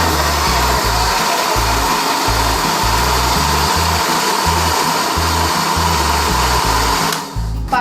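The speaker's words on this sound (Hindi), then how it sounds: "ये डाल के हम ब्लेंड करेंगे इसको" A blender whirs loudly and steadily, blending mango with sugar and milk for a homemade mango drink, its motor pulsing throughout before cutting off near the end.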